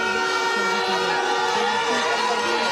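A huge, jubilant crowd roars without pause at a presidential visit to Kaffrine in over 40-degree heat. The dense, loud cheering is steady throughout, with sustained music-like tones running through it.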